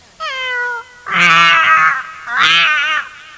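A human voice imitates a cat crying, with one steady meow followed by two longer wavering, wailing cries, loud and close, delivered as a mimicry act with no other talk.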